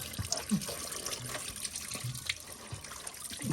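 Engine coolant draining from a Toyota Camry Hybrid into a funnel during a coolant change, an uneven splashing trickle of liquid with small gurgles and drips, close by.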